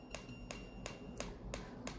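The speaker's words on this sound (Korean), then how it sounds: "딱딱딱 소리가 점점 올라가고 있죠." An SMP (scalp micropigmentation) auto machine ticks in sharp, evenly spaced clicks, about six in two seconds, close and fairly quiet against a low hum, with no talk.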